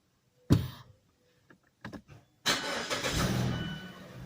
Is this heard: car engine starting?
yes